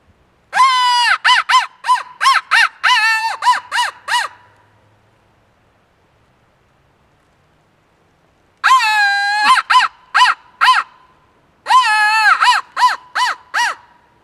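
A person imitates crow calls to locate turkeys, giving two rapid bursts of harsh, loud caws, a long quiet gap, then two more clustered series of nasal caws close to the listener.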